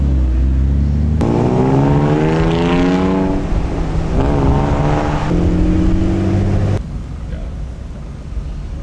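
A car pulls up at a night meet-and-cruise in Hawaii, stopping at a dessert shop. Its engine rumbles loud and close, with the pitch climbing and settling as it revs, then idles lower toward the end.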